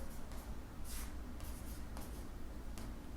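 Chalk or marker scratches across a classroom board in short strokes while a circle theorem from a class 10 maths lesson is written out, close and fairly faint over a steady background hiss, with no talking.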